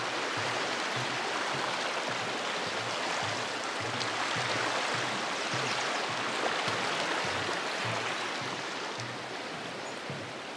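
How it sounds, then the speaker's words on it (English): Steady broadband rushing of Hot Springs Creek flowing along the Pacific Crest Trail, continuous and fairly close, with no voices. "Here's Hot Springs Creek."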